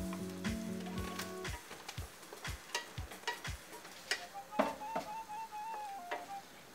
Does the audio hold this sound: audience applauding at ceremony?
no